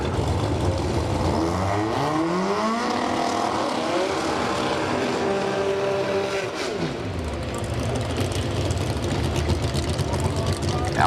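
Drag racing cars at a Competition Eliminator event in Belle Rose, Louisiana, engines roaring and revving with pitch sweeps as they return from burnouts, loud and continuous, with an announcer talking over them.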